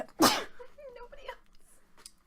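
A person sneezes once, loud and close, during a tabletop role-playing game session, followed by brief quiet speech from someone nearby.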